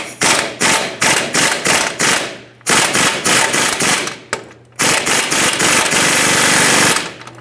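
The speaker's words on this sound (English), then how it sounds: "I'm going to do is actually put my impact on the nut side" Impact wrench hammering at a rusted shock mounting nut on a 1999-2007 Ford F-350 front suspension, loud close bursts of rapid rattling blows separated by short pauses, ending in a long sustained run.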